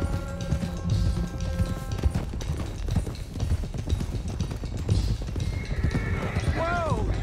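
Horses clip-clopping in Red Dead Redemption 2, a steady rhythm of hoofbeats on a trail with a horse whinnying near the end, under tonal game sounds and speech.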